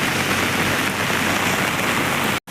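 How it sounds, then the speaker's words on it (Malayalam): Torrential rain hammers down around the NH 66 underpass at Randathani, Malappuram, a thick, constant wash of falling water, loud and close, ending with a brief sudden cutout near the end. "ഇതാണ് മക്കളണ്ടിലെ നല്ല മഴ നല്ല മഴ"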